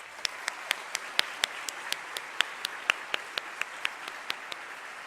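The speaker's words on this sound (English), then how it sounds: "If you guys would please give her a round of applause." Applause at a high school baccalaureate service comes as a soft, distant bed of clapping. One nearer pair of hands claps out a steady, evenly spaced beat above it, roughly four claps per second.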